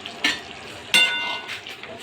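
Eggs drop one by one into hot oil in a pan for egg biryani, each landing with a sharp sizzling burst that settles into steady close frying hiss.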